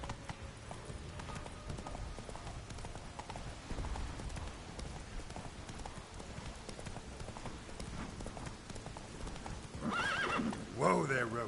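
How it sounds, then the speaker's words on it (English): Horse hooves clip-clop steadily in The Witcher 3, with a loud neigh and snorting near the end and faint ambient game sounds beneath. "Whoa there, Roach"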